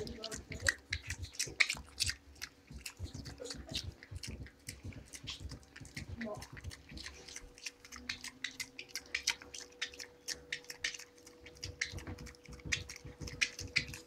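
A mini pig chews gum with rapid, wet smacking and clicking bites in a close, irregular rhythm, while a faint hum sits underneath.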